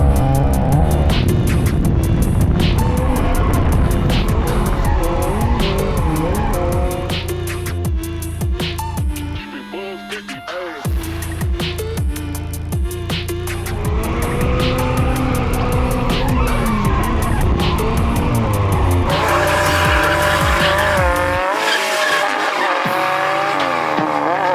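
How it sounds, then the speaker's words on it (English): A Toyota GR86 fitted with an angle kit and Vortech supercharger drifts, its engine roaring and tires squealing continuously for over twenty seconds, loud and close, with a brief dip in the middle before the howl resumes. "Drifting."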